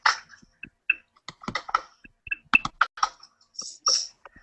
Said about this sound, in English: she's typing everything